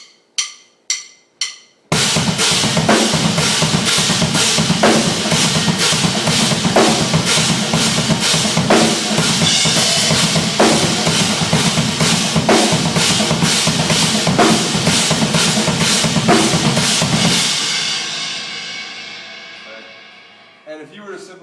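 Busy drum groove with snare ghost notes packing the gaps into continuous 32nd-note subdivisions, loud and dense for about fifteen seconds after a few opening hits, then ringing out and fading.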